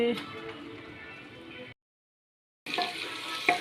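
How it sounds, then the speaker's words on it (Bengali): Meat sizzles and crackles softly in a pan on a home stove. The frying drops out for about a second of silence, then comes back slightly louder. "ভাজা হচ্ছে।"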